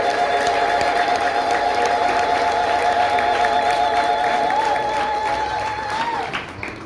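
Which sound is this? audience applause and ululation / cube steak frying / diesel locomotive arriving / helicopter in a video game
audience applause and ululation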